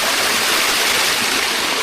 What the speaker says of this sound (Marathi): थोडे थोडे वॉटरफॉल, थोडं थोडं पाणी होतं